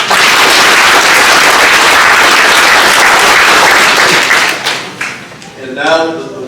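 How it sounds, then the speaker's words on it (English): Audience applause at a college graduation ceremony for a board member, loud dense clapping that fades out near the end as a voice begins speaking. "If we could give him a round of applause."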